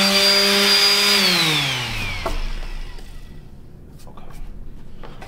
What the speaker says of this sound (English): now I'm just gonna sand this baby off to an 80 grit